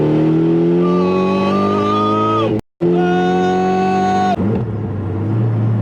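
A Mitsubishi Lancer Evolution X engine hums steadily at low revs in fifth gear with a whining tone, briefly cut off, then resumes before settling into a lower drone.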